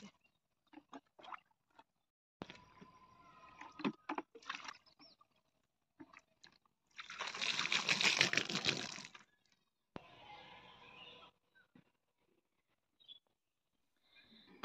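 Water poured from a bucket onto a seedbed in a garden, heard as one loud splashing pour of a few seconds in the middle, with faint scattered clicks and knocks before and after and a softer trickling passage following.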